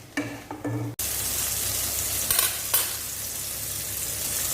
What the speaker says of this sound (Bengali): মাছ তো ফ্রাই ভালো করে করতে হবে